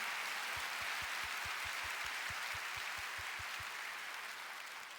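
A large church congregation claps together in a steady, dense wash of applause that carries on throughout and fades slightly at the end.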